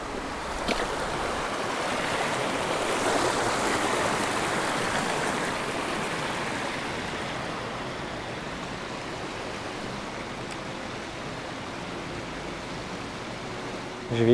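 Steady river water rushing and gurgling around a person wading through a shallow crossing, a continuous broad wash of flow heard close, with a faint splash right at the end.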